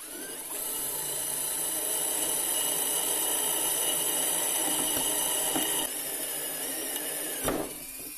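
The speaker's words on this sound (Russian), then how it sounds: "Попробуем просверлить в ней отверстие." A drill bores a hole in a steel profile pipe with a 3 mm wall, a steady high whine holding for several seconds and then cutting off abruptly, with a short clack at the end.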